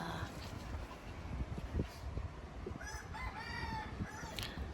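A distant rooster lets out a single long crow near the end at dawn at a seaside campsite, over quiet outdoor ambience with low rumbling waves and a few soft knocks.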